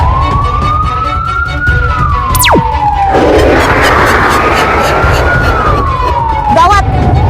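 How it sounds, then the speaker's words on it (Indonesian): A police car siren wails loudly and continuously, its pitch slowly rising and falling over heavy rumbling road noise, with a brief whooshing sweep partway through. "Lihat, Yuta, di depan ada mobil polisi."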